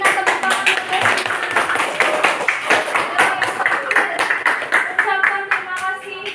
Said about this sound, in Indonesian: tepuk tangan untuk Devina